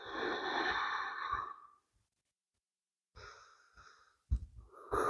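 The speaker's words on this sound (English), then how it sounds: "Breathe deeply." Deep breaths drawn and released during a yoga warrior pose: a long, airy exhale, a pause of silence, then another breath followed by a sharper intake and a short snort-like puff, close and clear.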